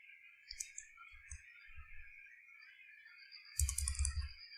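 Keys clicking on a computer keyboard while an FTP address is entered during CentOS 7 yum server setup, a few soft taps followed by a louder burst near the end over a steady background hum.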